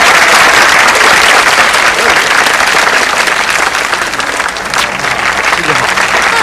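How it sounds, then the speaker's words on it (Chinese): Audience applause at a concert, a dense, loud burst of many hands clapping together that continues steadily for several seconds, easing slightly toward the end, with crowd noise mixed in. "来，掌声啊！"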